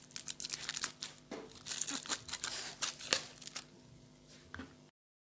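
A Lamar orange juice carton being opened by hand, with a run of crinkling and tearing of the packaging, several sharper crackles close up, fading out near the end.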